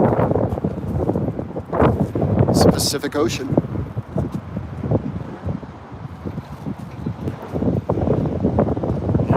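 Gusty wind at the Golden Gate Bridge buffets the microphone in loud, uneven rumbling bursts, continuing beneath someone talking almost the whole time.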